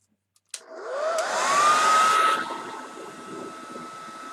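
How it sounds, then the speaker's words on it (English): A handheld hair dryer blows on a canvas bag painted with a buffalo or cactus design. It switches on abruptly with a rising whine that settles into a loud, steady roar, then drops to a quieter, continuous blow. "So I'll quick blow dry that."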